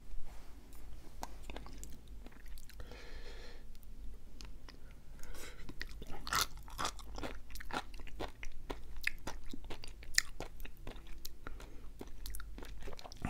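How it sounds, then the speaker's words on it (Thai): Close-up crunchy chewing and biting of sea grapes seaweed with prawns at an ASMR eating show, steady wet crunches repeating throughout with little talk. "วันนี้ถนัดองุ่นกรอบดี"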